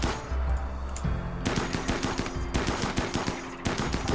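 A colonist shoots in the RimWorld video game, firing several close, rapid bursts of gunfire in quick succession over a steady ambient hum.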